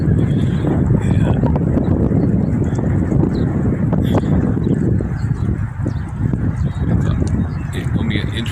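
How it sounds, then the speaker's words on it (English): Gusty high wind by the water during a high wind advisory, a loud low rumbling buffet that surges and eases in waves across the whole stretch. "Hear the wind. It comes and goes. It's gusts and it lessens."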